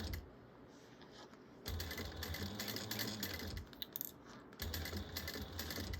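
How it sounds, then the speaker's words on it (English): A sewing machine stitches a narrow seam on a fabric bag in bursts of rapid mechanical whirring, pausing and restarting, close up with no speech. "I'm going to be sewing this at a eighth of an inch seam allowance just to start, just to get everything held together."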